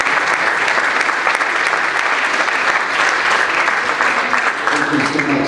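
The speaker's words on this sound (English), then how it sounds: "Please give them a huge round of applause." A theater awards ceremony audience gives graduating seniors a loud, dense round of applause, steady and continuous from start to finish with a faint voice underneath.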